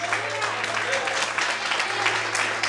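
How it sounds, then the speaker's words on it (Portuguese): A church congregation applauds together, a steady dense wash of clapping held at even loudness throughout, with a low sustained hum beneath and faint voices mixed in. "aplauda o Senhor e glorifica Ele bem forte"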